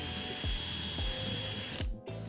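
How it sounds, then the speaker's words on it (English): A drill boring a 1/8-inch hole through scrap wood, a steady close whine with a few short bumps as the bit bites, ending in a brief pause. "I'm just going to drill a hole in the middle,"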